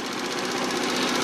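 A Kymco Super8 4T four-stroke scooter, with carburetor trouble, revs up hard and close, making a loud buzzing, slightly uneven drone that stutters a little as it climbs.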